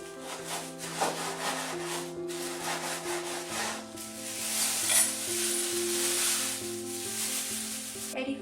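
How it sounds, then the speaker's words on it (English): Oreo cookies being crushed and rolled until fine for vegan chocolate truffles, giving a steady close gritty rubbing and crunching that runs through the whole stretch with no talk. "Crush and roll the Oreo cookies until fine."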